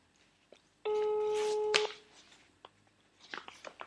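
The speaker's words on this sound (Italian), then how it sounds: "Facciamo ripartire intanto la telefonata a uno dei due." A telephone line emits a single steady electronic tone lasting about a second while a call is redialed, followed by faint clicks and scattered background noise.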